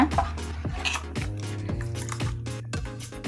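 Millet dosa batter being spread across a hot pan, with repeated scraping and clinking strokes of a ladle against metal at a steady rhythm, close and fairly loud, no talking.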